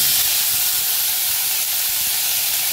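Paneer frying in hot oil in a pan, just after cashews were fried and lifted out for a restaurant-style butter paneer cashew masala: a steady, loud, broadband hiss and sizzle that holds unbroken throughout, with no talk.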